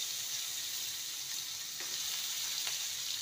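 Vegetables (carrot, pumpkin, cauliflower, capsicum and a little potato) fry in a pan with panch phoron spices, giving a steady, even sizzle throughout with a couple of faint stirring clicks.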